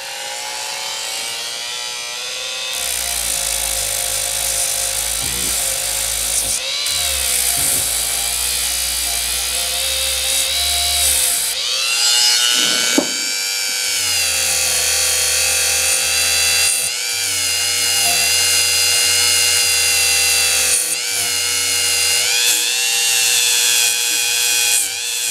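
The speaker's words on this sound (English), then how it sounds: "Dremel tool and a little bit of I think it's a nylon brush" A Dremel rotary tool fitted with a nylon brush cleans a Stanley 71 router plane, a loud close high-pitched whine that shifts in pitch and drops in and out as the brush bears on the metal, with no talk.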